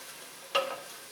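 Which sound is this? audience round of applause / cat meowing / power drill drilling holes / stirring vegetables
stirring vegetables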